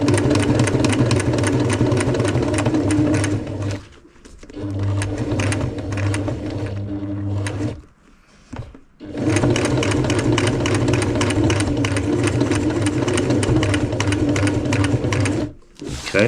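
Sewing machine stitching a seam on a Panacea 2 tent, running in long steady bursts with two brief pauses, close and loud.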